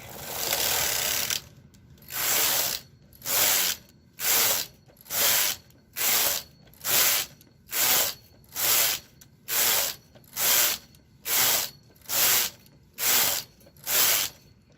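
A knitting machine carriage sweeps back and forth across the needle bed at tension 5, knitting a sweater sleeve: about fourteen loud, even, whooshing ratchety passes in a steady rhythm with brief gaps between strokes.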